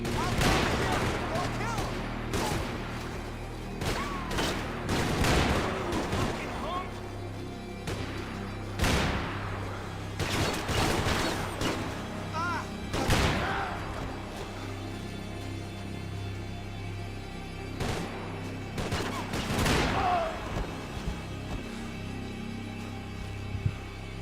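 Gunfire in the video game Max Payne 3, with repeated loud bursts and volleys of shots spread across the stretch, over a low steady background drone.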